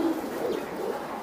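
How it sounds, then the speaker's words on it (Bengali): A racing pigeon gives a soft, low coo while being held in the hand, a brief throaty murmur close by over a steady background hum. "এই যে আরেকটা কবুতর"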